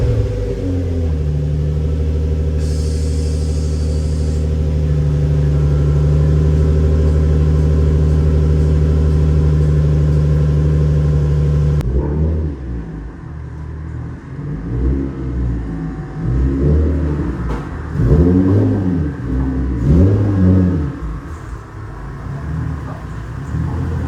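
The engine of a damaged car rumbles steadily at close range, then a second stretch brings uneven revs that rise and fall as the car is turned around. No one speaks.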